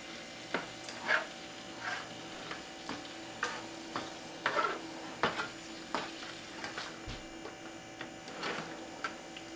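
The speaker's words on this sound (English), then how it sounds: "Then go back to the shrimp. Flip them over." Shrimp frying in a pan while being flipped, with a soft steady sizzle under repeated light taps and scrapes of a utensil turning them, alongside a faint constant hum.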